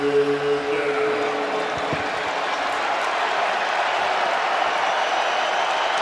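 Stadium crowd at an NFL game between the Raiders and Washington, a broad steady roar of cheering and noise sustained throughout, loud and continuous with some faint low tones at the start.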